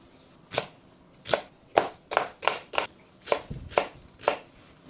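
A knife chops vegetables such as carrot, tomato, garlic, onion, celery and cabbage on a board, about a dozen sharp, close knocks in an uneven rhythm with short pauses and no talk.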